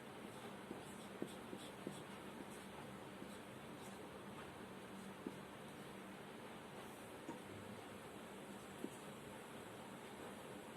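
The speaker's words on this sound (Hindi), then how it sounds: "चलो मैं एक लिखती हूँ" Marker or chalk scratching on a classroom board as a teacher writes a chemistry formula, producing faint, scattered strokes and taps over steady low background hiss.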